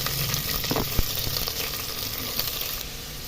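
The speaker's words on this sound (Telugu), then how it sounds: "ఉల్లిపాయ ముక్కలు వేస్తున్నాను." Chopped onions with green chillies and seasoning spices fry in hot oil in a pan, a steady close sizzle with a few faint stirring clicks and no talk.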